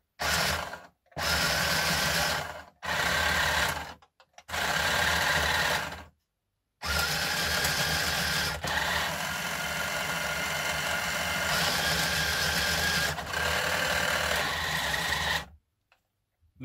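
A Heng Long-style RC tank's turret motor whirs in several short bursts, then a longer steady run, as the turret rotates back and forth; it is loud and close, with brief silent gaps between runs.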